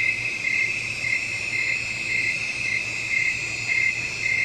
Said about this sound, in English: Swamp at nights with crickets and circadias.